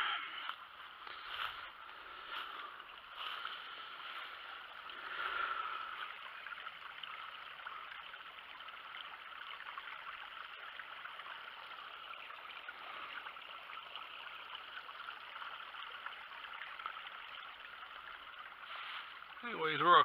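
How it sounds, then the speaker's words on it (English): A stream flowing steadily through woodland near a deer stand, a soft continuous wash of running water heard close by for the whole stretch. "You can see there's a lot of water coming off here because it did flow through here."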